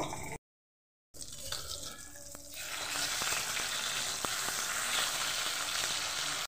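Oil frying in a pan for a rohu fish and potato curry, a dense crackling sizzle that swells after a brief gap, with a few sharp pops and light stirring scrapes, close, no speech.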